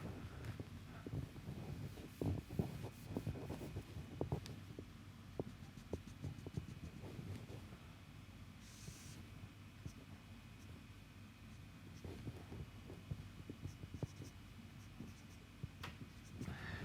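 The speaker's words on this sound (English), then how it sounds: "So, we will draw the cash flow diagram first." A pen scratches steadily across paper as a cash flow diagram is drawn for a compounding problem, giving close, continuous faint strokes over a light background hiss with no talking.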